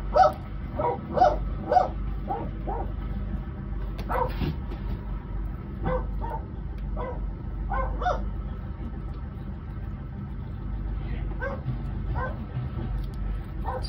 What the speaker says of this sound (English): our coolie dog who helps bring the cows in